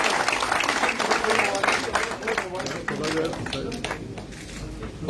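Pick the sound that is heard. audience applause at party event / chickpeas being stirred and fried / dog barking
audience applause at party event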